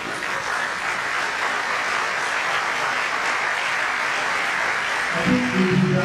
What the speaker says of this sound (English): Please, a bigger round of applause as we stand.